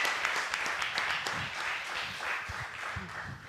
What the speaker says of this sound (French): Applaudissements pour Real Slimpo.